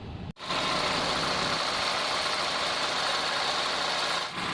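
Nissan Sentra with a failing head gasket idles steadily, a continuous broadband engine rumble heard alone at close range after a brief cut at the start.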